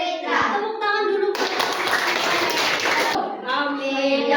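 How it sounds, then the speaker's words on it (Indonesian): Students in a classroom clap their hands together in a dense burst for about two seconds, loud and close, with children's voices talking before and after. "Tepuk tangan dulu"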